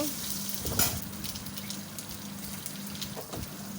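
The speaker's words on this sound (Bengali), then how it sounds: "জিরে দিয়ে দেব কালো সর্ষে দিয়ে দেব এবং হলুদ মাম মতন লবণ সমস্ত কিছু দিয়ে একটু নাড়াচাড়া করে নেব" Cumin, black mustard seeds, turmeric and salt are stirred in a hot pan, giving a steady close sizzle with a few scraping strokes and soft clinks, no talking.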